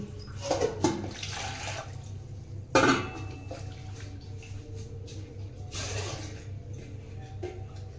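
Water poured into a pot of lentils in a couple of splashy runs, with a sharp clank of metal and a low steady hum underneath.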